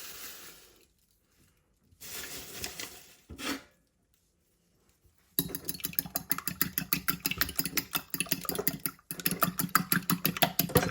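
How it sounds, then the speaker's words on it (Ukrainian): Rapid rhythmic clicking and scraping of a whisk beating egg and sugar in a bowl starts after a few short bursts and pauses, continuing fast and steady. "Далі збиваємо яйце та цукор."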